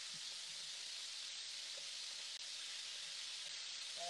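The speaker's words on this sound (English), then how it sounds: "So we're only going to sear the outside." Beef searing in a pan for lomo saltado, a quiet, steady sizzle holding level for the whole stretch with no voices.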